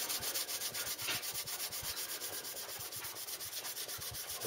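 A brass clock dial is rubbed in short, rhythmic back-and-forth strokes along the grain during re-silvering, giving a close, soft, continuous scratchy rasp with no voices.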